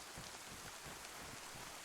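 Rain in the video game DayZ falls as a dense, constant hiss, with drops pattering on surfaces and no talk.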